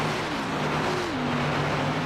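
A field of stock cars in an Xfinity Series sim race at Las Vegas Motor Speedway roars steadily at full throttle, a dense continuous engine drone with one pitch sliding downward partway through.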